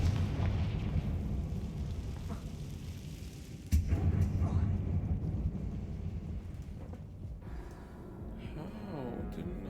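A Confringo blasting spell explodes in the Hogwarts Legacy video game: a loud, booming burst lands near the middle over a steady low rumble, followed by a fading roar and a few smaller crackles.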